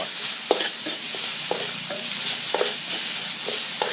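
Onion stir-fried in a pan for Thai nam prik ong, with a steady sizzle broken by regular scraping strokes of a spatula, close and moderately loud with no talking.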